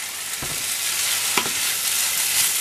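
Paella being stirred in a pan on home stove, a soft scraping of the spoon through rice with a steady faint sizzle underneath and a couple of brief clinks.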